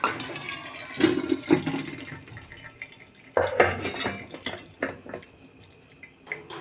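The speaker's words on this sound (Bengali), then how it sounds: "এর মধ্যে আমি মাংসটা ছেঁকে দিচ্ছি" Cooked chicken and its water poured through a strainer, a rush of splashing water with clattering metal and utensil knocks in irregular bursts, close by with no talk.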